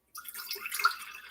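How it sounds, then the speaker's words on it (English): Masala chai is poured into a container in a short, soft trickle and splash lasting just over a second, close and quiet. "I'm going to see if I can pour this in here"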